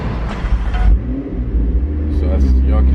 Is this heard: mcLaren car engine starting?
yes